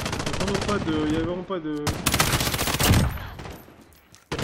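Rapid automatic bursts from an M13 rifle in Call of Duty Modern Warfare crackle loudly for a few seconds, following a man's brief spoken French at the start.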